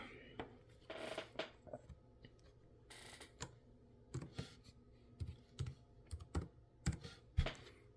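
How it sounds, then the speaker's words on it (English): Someone types a password on a Lenovo Legion Slim 7i laptop keyboard, producing a quiet, irregular series of soft key clicks and taps close by. "Let me enter my password."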